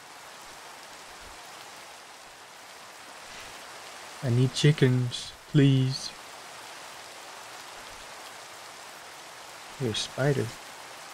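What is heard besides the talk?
rain falling in a video game (CocoaCraft)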